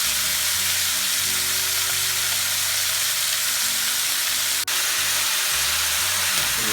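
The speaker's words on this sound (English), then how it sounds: "Tossing the onions around, kind of browning them up a little bit, caramelizing these onions." Onions sizzle and brown in hot olive oil in a pan, a dense, steady frying hiss that runs throughout with a low rumble underneath and one brief clink near the end, no voices.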